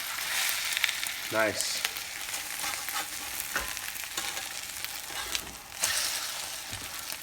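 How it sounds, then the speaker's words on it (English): Peppers and eggs frying in a pan give a close, steady sizzle with occasional scraping stirs, and a voice briefly speaks once over the cooking. "actually frying this, so I'll let it go for 30 seconds"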